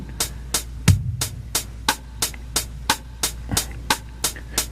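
A drum machine taps out an even run of eighth-note triplets, three crisp clicks to each beat, with one low bass-drum thump early on, all close and dry over a faint steady hum.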